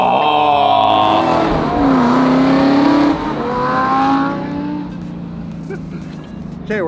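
A car passing close by on a road, engine revving and rising then falling in pitch as it goes past, loud and near, with the sound fading toward the end.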